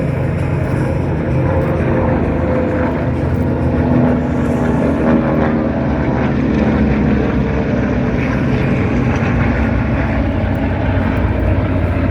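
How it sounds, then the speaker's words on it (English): A mass Balbo formation of aircraft flies over an air show at Wings Over Illawarra, making a loud, steady, dense drone of many engines and propellers that holds without a break throughout. "that beautiful sound of all those aircraft"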